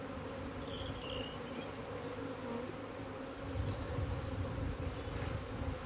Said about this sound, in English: But we need to get the bees in